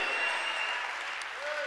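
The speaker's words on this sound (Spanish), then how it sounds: "Démosle palmas al Señor" A church congregation claps along during worship, a dense, steady wash of many hands sustained for under two seconds with a murmur of voices mixed in.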